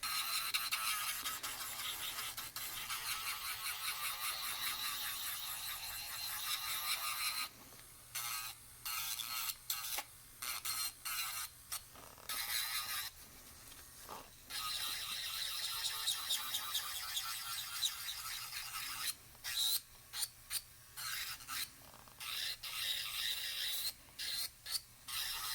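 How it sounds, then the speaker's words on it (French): An electric nail file fitted with a 5-in-1 bit grinds against a fingernail, a close high whirring rasp that runs in bursts with short pauses between passes. "je vais utiliser ma lime électrique avec mon embout 5 en 1"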